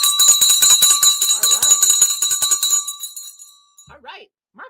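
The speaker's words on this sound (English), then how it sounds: "All right, guys, it's time for the bell." A stock market closing bell rings loudly and steadily for about three seconds, a sustained metallic ringing with crowd noise beneath, then stops, followed by brief faint sounds.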